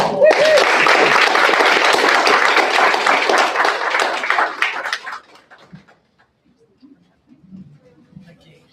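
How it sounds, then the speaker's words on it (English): Sustained applause from a crowd at a citizenship ceremony, loud and dense for about five seconds before fading out, followed by near silence with faint scattered sounds. "One final round of applause."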